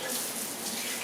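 Kitchen tap running steadily as a dropped whisk is rinsed, a brief close splashing gush of water lasting about a second, no talk.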